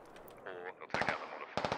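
Gunfire in a SquadOps video game match, arriving in short clustered bursts of rapid shots, loud and close, with a voice talking in the gaps between them.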